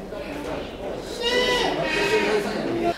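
Goats bleat with wavering, nasal cries on a goat farm in Shunchang, China. Two or three calls come close together while people talk underneath.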